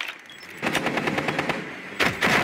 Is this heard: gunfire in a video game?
yes